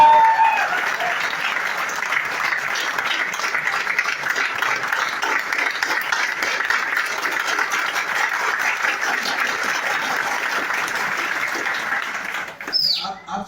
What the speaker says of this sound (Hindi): ताली बजाना आता है? तो बजाओ में भाड़ा थोड़ी लगता है,